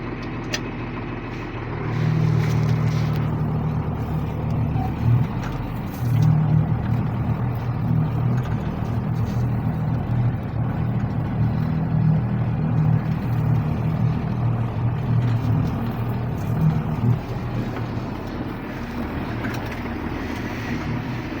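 A John Deere tractor, in gear range C, reverses to hitch a 9 m spring harrow. A loud, steady diesel engine drone rises after a quiet start and holds constant, with no talk.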